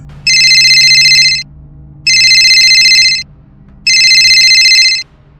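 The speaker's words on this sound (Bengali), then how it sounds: "উফ, রিদম ফোনটা ধরছে না কেন?" A telephone rings loudly in three identical electronic bursts, each about a second long, with evenly spaced pauses between them and a faint low hum underneath.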